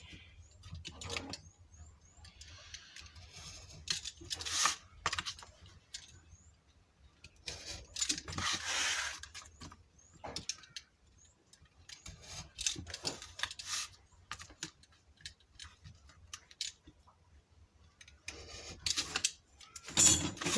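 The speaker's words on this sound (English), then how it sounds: "This is how I do my trimming." Scissors trim a transparent plastic cake box in scattered, irregular bursts of crisp rasping and crinkling, with quiet gaps between cuts and no one talking.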